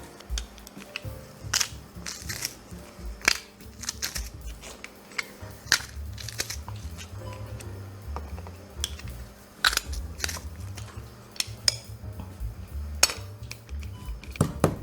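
A kitchen knife chops about five garlic cloves finely on a board for a sauce, giving irregular sharp taps that come fast and close, with soft scraping between strokes.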